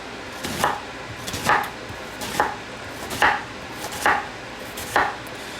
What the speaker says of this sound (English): this onion is pretty big. So we're just gonna chop it up